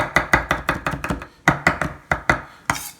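A knife chops fresh parsley on a cutting board in steady, rapid strokes, each one a crisp close knock, with a brief pause partway through before the rhythm picks up again.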